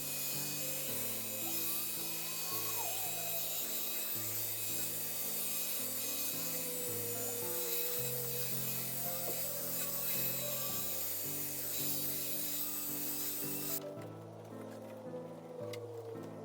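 Hazy Lexus GX470 headlight being machine-polished with a Harbor Freight restoration kit, a steady loud whirring rub that runs continuously before cutting off near the end, with no talk.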